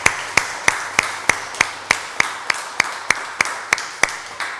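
A church congregation claps in a steady, regular rhythm, about fourteen sharp, evenly spaced claps sounding close and loud, with no talk over them.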